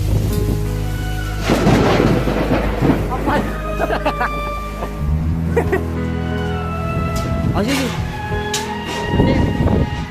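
A severe thunderstorm with rain pours down steadily, with deep rolls of thunder rumbling through, close and loud, during weather that brought down a local tree; voices can be heard faintly over it.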